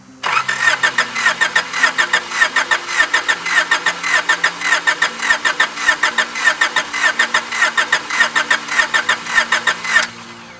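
A 90's import car engine that has sat for years cranks over and over in a steady, rapid rhythm for about ten seconds without catching, loud and close, with no voices.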